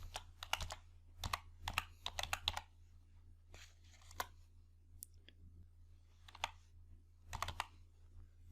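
Quiet bursts of computer keyboard typing while entering a spreadsheet formula, with clustered keystrokes separated by short pauses and a few isolated clicks; nobody speaks.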